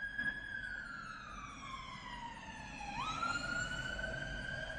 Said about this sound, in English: More wee-woos.